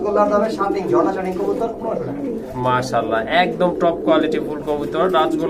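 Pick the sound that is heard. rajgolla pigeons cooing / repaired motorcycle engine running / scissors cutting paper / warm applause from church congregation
rajgolla pigeons cooing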